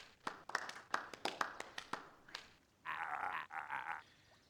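Applause in the video game Beacon Pines: a string of sharp individual claps at first, then a denser, sustained burst of clapping near the end, with no voices.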